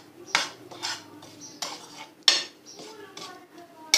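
A spoon stirring green chilli pickle masala in a metal pot, a close sequence of scraping, clinking strokes in an uneven rhythm, with no talking.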